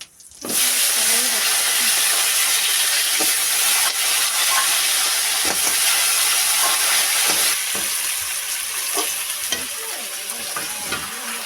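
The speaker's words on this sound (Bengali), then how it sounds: "এই যে কাঁকড়া রান্না করা হচ্ছে কড়াইতে জিরে দেওয়া হলো" Crab cooking in a wok with cumin gives a loud, steady, close hiss of frying and steam throughout, with occasional stirring scrapes and faint voices underneath.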